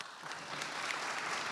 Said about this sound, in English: For all of our judges and all the support teams getting us today, quick round of applause